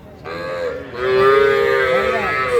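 A four-month-old Sahiwal bull calf at a cattle market gives one long, loud, close moo that rises and swells, over faint background crowd noise.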